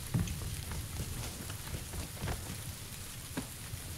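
Steady rain in the PUBG battle royale game on the Sanhok map, a dense continuous hiss with low rumble and occasional sharper drop splashes, fairly loud and unbroken with no talk.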